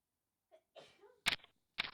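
A person sneezes twice in quick succession, sharp explosive bursts close to the mic, preceded by faint breathy vocal sounds in an otherwise quiet room.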